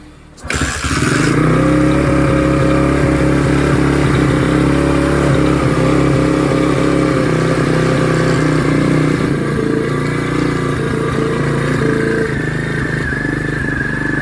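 A motorcycle with a battery-operated CDI and no battery cranks and catches, then idles steadily and loudly, close by, for the rest of the clip.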